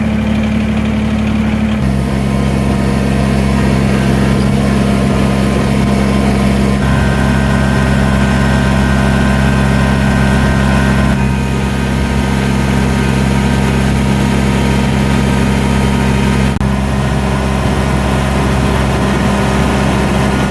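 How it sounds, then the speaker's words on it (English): A heavy diesel tractor engine idles loudly and steadily at close range while warming up, a constant low rumble throughout with no voices. "We got to let the tractor warm up to operating temperature"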